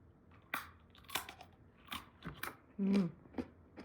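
Crisp crunching bites of crispy sweet potato fries, several spaced chews close to the mic in a quiet room.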